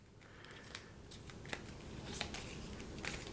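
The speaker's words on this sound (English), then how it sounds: "I just shuffled Pile Driver. And now I'm shuffling Bulldozer." Marvel Champions card decks are shuffled at close range, a soft run of crisp riffling clicks and snaps over a few seconds, faint and without talk.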